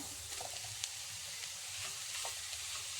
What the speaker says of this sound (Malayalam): ചിപ്പി കൂണാണ് എടുത്തിരിക്കുന്നത് വിഴുക്ക് വരട്ടാൻ അത് നമുക്ക് ഇനി അതിലേക്ക് ഇട്ട് കൊടുക്കാം